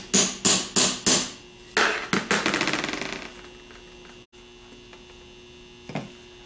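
Metal hammer taps on a 6G alternator part during a rebuild, a quick series of sharp ringing blows followed by a faster run of lighter taps, close and clear over a steady mains hum.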